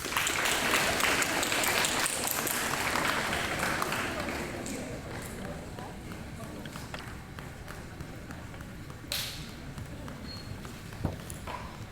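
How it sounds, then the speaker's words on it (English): Audience applause at a 2022 Lebanon 8th Grade Recognition Day school ceremony: loud, dense clapping for the first few seconds that thins and fades to scattered claps and room noise, with voices mixed in. "one thunderous applause."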